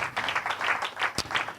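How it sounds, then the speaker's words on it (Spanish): A church congregation applauds during a sermon, a moderate, fairly distant wash of clapping hands lasting a moment with one sharper clap standing out. "Dele un aplauso al Señor."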